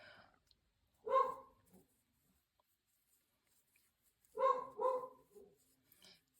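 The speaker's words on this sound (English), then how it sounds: "You might hear my dog. She's saying hi to the people outside." Two separate bursts of a dog barking, each a quick cluster of barks, one early and one after a long quiet gap, moderately near.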